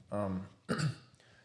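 A couple of harsh, throaty coughs from a man with lung problems, close by and fairly loud, followed by a fainter rasp.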